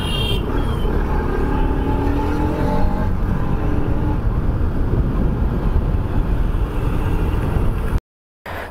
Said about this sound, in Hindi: बहुत गाड़ी जा रहा है